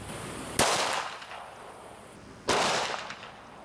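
An FN 5.7x28mm pistol fires into ballistic gel with two sharp, loud cracks about two seconds apart. Each crack trails off into a fading echo and no one speaks.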